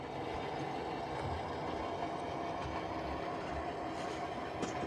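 An HO scale model train runs around a curve near the backdrop of a model railroad layout, giving a faint, continuous rumbling clatter of wheels on track at a steady level throughout.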